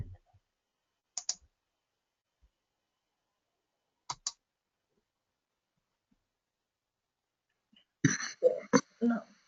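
A computer mouse gives a few isolated, sharp clicks in near silence, mostly in quick pairs, before a short burst of nearby speech.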